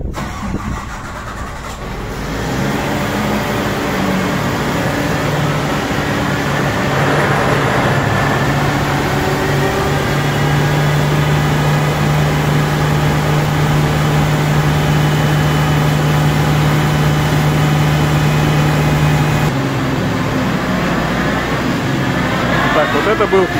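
An RMX Agro AR5204ES tractor runs steadily, its PTO spinning a mulcher rotor with a smooth, even drone and a soft rustle, loud and continuous throughout with no clanks or extra noises.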